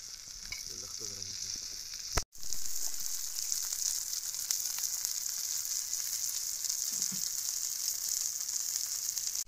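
Stuffed pomfret (paplet) fish frying in a pan, a steady loud sizzle and crackle throughout, briefly cut off by a momentary drop, then continuing evenly close up.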